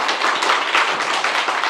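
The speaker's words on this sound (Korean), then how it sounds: "예, 박수 한번 주세요." A brief burst of audience applause at a community book concert, many hands clapping densely and steadily, close and fairly loud.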